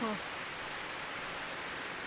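Constant soft hiss of steady rain falling, fairly faint and even, with no voices.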